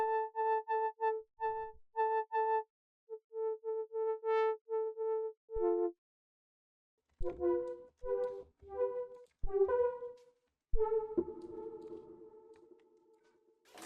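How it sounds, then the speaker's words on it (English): A stock Prophet 5 preset from Analog Lab's vintage factory bank plays a melodic line of clean, bell-like synth notes, then shifts to a grittier, busier pattern with a ringing tail, played alone at moderate level. "It's also a sound in the Prophet 5 synth."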